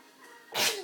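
A single short, sharp sneeze from a small child bursts out close by, preceded by a faint breathy intake.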